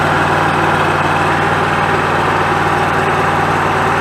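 A Kawasaki FX691V engine on a Gravely Pro Turn 152 zero-turn mower idles steadily, a constant close, loud mechanical drone with no talk over it.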